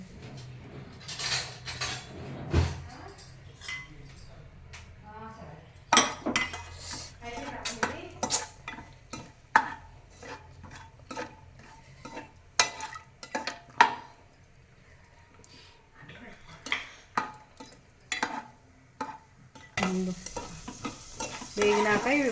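Dry fruits frying in hot ghee in a pan for carrot halwa, a steady sizzle broken by frequent clinks and scrapes of a spoon stirring against the metal, close and busy throughout.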